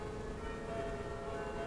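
Distant church bells ring faintly for a wedding, their sustained tones hanging over a low rumbling background.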